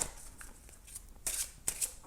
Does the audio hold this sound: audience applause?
no